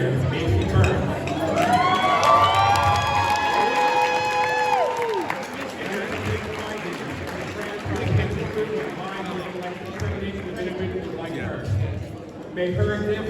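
Audience applause and cheering fill a room at a Collin County Democratic Party dinner, a steady crowd wash of clapping with voices and a sung or spoken tone riding over it early on.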